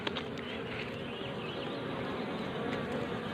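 Honeybees swarm and buzz around a nest tucked into a rock hole, a steady close, dense drone running without a break and no talk over it.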